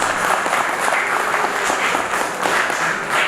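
Loud, sustained applause from an audience at a Bengali association's centenary tribute concert, a dense steady patter of many hands clapping throughout.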